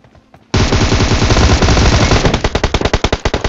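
Gunfire in a King Kong video game: a sudden loud burst of rapid automatic fire that runs continuously, then breaks into separate sharp shots toward the end, with no voices.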